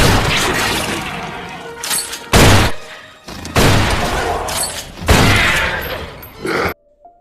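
Loud bursts of gunfire against ghosts in a horror film, several sharp crashing volleys in quick succession separated by brief gaps, ending abruptly in near silence.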